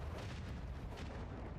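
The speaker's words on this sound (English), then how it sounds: "we should be able to get these guns on him. The starboard macro cannons." Starboard macro cannons fire in a Warhammer 40k Rogue Trader space battle, a dense sustained rumble of heavy booming shots with no clear gaps, faint but filling the whole moment.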